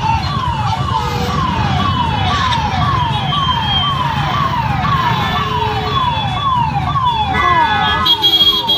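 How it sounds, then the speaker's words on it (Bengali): An ambulance siren wails continuously on a closed, blocked road, its rising and falling tone repeating steadily and loudly over a low rumble of traffic and crowd noise. "আর এদিকে অ্যাম্বুলেন্স পাশে রয়েছে"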